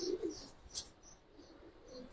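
Pigeons in a loft of a Bengali pigeon dealer coo briefly and softly at close range, giving a short throaty call followed by quieter murmurs.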